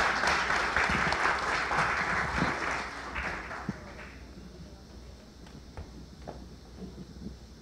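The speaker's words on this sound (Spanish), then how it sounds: "que le den un aplausito" Audience applause at an international conference panel session on water and power, dense clapping through the first half that thins out to scattered claps and fades to quiet.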